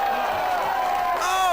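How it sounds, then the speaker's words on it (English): A wrestling crowd at an FWA show chanting and cheering in a steady roar of massed voices, with a commentator talking over it throughout. "The crowd breaking into a chant of solid gold, solid gold. They're cheering"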